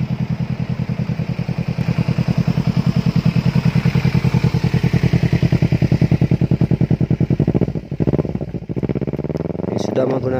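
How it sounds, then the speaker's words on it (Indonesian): A Kawasaki Versys-X 250 fitted with an aftermarket Yoshimura exhaust idles with a steady, loud, rapid firing pulse, then blips its throttle in a few quick revs near the end, with a voice talking over it. "Ini knalpotnya sudah aftermarket ya, bukan knalpot standar."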